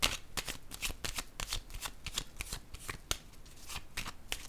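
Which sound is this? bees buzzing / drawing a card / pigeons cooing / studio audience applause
drawing a card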